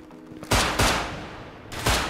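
Gunfire rings out in a survival video game: three or four loud, sharp shots in quick uneven succession, each with a short fading tail, and no voices over them.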